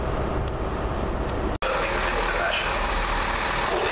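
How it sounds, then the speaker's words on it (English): A diesel multiple-unit passenger train pulls into a station, its engine rumbling and idling steadily at moderate distance, broken by a brief dropout, with faint talk nearby. "Here comes my train home."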